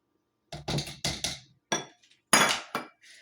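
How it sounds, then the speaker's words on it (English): Eggs are whisked into sugar cookie dough in a bowl, giving a few quick bursts of clinking and clattering from the whisk against the bowl, close and clear, with no voices. "I'm going to whisk that up until my eggs disappear"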